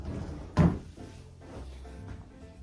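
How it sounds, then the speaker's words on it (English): A floating sliding door on a two-door closet gives one brief thud as it moves in its track, followed by a faint rumbling glide, close by in a quiet room. "It's a 2-door closet with floating doors, floating sliding doors"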